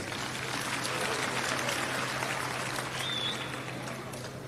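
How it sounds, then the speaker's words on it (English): Delegates at the ANC Youth League National General Council clap their hands together, a broad sustained wash of crowd applause that swells slightly and then begins to taper off, with no one speaking over it. "I think we must clap hands for ourselves."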